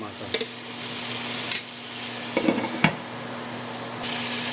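Food sizzling in a frying pan while a spoon stirs it, a steady hiss broken by a few quick scraping clatters, close and fairly loud with no voices.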